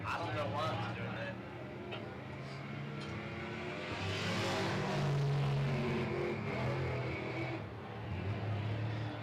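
Race cars lapping a dirt track at Tri County Racetrack, engines droning and rising as they pass, with a louder swell midway, while people talk over the noise.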